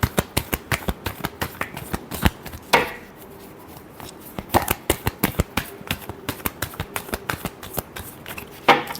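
Tarot cards are shuffled by hand in rapid bursts of crisp riffling slaps, pausing briefly twice before resuming at a quick, uneven rhythm.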